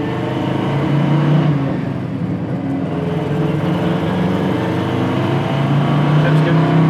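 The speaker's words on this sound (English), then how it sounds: "It's got a nice sounding dual exhaust as well. Sounds like you're driving a muscle car." A deep, rumbling engine of a 1972 Chevrolet Nova SS with a throaty dual exhaust drones steadily as the car cruises, loud and continuous throughout.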